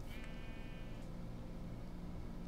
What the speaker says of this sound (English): I hear the sheep. I can't find the sheep.